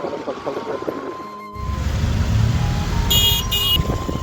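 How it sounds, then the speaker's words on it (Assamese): Heavy, jammed traffic on National Highway 37 near Jorhat, with crowds of vehicles heading to a large annual religious convention. A quiet start gives way to a loud, steady engine rumble, and a vehicle horn sounds several short toots near the end. "পুৰা 37 হাই ৰোডত একদম গাড়ী পুৰা ভিৰ লাগি আছে।"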